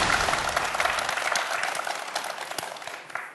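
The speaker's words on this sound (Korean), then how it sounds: "두 학생 모두에게 큰 박수 부탁드립니다" Audience applause for two middle school students on a televised quiz show, a dense steady wash of clapping that holds through the clip and tapers slightly at the end.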